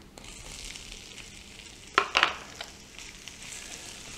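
Freeze-dried carrots are tipped into a pan of bacon and butter. A quiet, steady sizzle is broken midway by a short burst of louder crackling and stirring noises, with no voices.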